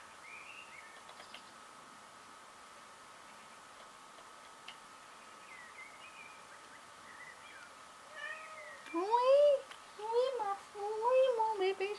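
A pet kitten meows a few times, close by and clear, rising calls near the end after quiet room tone, with a brief spoken word earlier.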